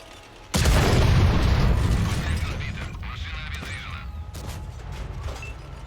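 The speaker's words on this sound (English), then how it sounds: "That artillery's probably gonna kill me." Artillery fire in a tank battle video game: a sudden loud boom that rolls out into a long decaying rumble, with fainter mechanical clanks and a softer second impact later.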